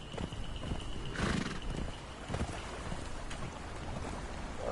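A horse in the Conan Exiles game neighs with a whinny while its hooves clip-clop steadily over ground, the loudest call near the middle, set against continuous game ambience and no talking.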